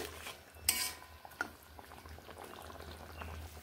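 Salt is mixed into koi fish curry bubbling in a pan, a faint steady simmer with a few soft spoon clinks and scrapes near the start, quiet and close, with nobody speaking.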